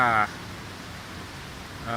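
Heavy rain pours on a campsite tent on a sandy beach at Hat Chao Mai National Park, a steady dense hiss that fills the whole stretch, with brief voice at the start and end.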